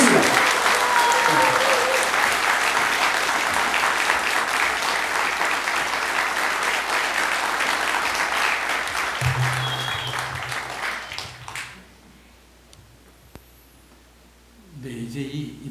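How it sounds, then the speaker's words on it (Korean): Applause from a party rally crowd at a Jeonbuk party convention in Jeonju, loud and sustained for about eleven seconds before dropping to a quiet pause, then a brief burst of clapping returns near the end. "여러분 힘찬 박수 부탁드리겠습니다"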